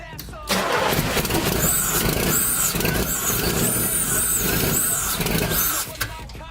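A 1985 Pontiac Fiero GT project car engine cranks and catches, then runs steadily and loudly at close range with a high whine riding over the idle, while excited voices cheer over it.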